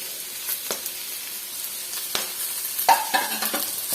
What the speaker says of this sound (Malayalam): ഇതെല്ലാം കൂടെ സോട്ട് ചെയ്യാം.